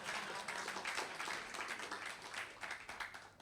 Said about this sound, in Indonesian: Ayolah tepuk tangan lah